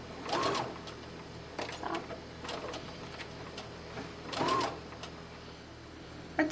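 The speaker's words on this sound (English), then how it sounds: "Now I'm just going to do a straight stitch right along the edge just to close that hole" A sewing machine runs a straight stitch along the edge of a doll dress in several short, quiet bursts of rapid mechanical whirring, separated by pauses.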